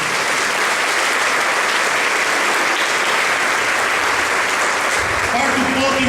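A church congregation applauds together, a dense, loud wash of clapping that holds steady from start to finish with no pauses.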